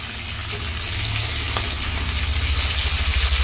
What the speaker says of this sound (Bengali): পাবদা ভাজা বসিয়েছি শেষ, মানে পাবদাও রান্না হয়ে যাচ্ছে